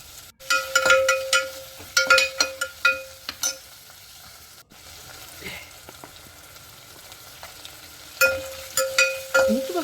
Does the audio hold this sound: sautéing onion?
yes